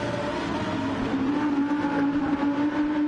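Audi race car in a racing video game, its engine drone holding a steady rising pitch as it passes, loud and continuous with no talk over it.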